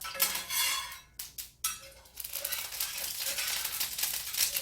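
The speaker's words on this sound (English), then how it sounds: "I got my little tester meat in here and it's frying" Hot oil sizzles and crackles steadily in a pan as a small piece of meat fries and pops from added water, with a few clinks of a utensil against the metal partway through.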